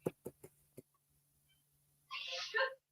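A few short coughs or throat sounds are followed by a single sharp, noisy sneeze in an otherwise quiet room.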